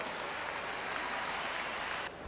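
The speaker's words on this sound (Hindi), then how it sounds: "आइए जोरदार तालियों से हम स्वागत और अभिनंदन करें।" A crowd at a Madhya Pradesh state event applauds chief guest Amit Shah with dense, steady clapping that carries on evenly before easing slightly at the end.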